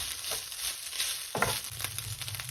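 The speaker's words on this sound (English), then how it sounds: "make sure you keep on stirring" Egg fried rice being stirred in a hot pan, crackling sizzle with a scraping stir of rice and vegetables midway, close and lively.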